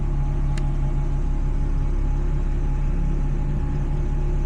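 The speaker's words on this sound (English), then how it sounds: "The valve is pretty loud though, I will say. Like, you can actually hear it whirring in there." Custom idle air control valve in an NA Mazda Miata at idle: a loud, steady engine drone with a constant whirring hum, unbroken throughout and heard close up.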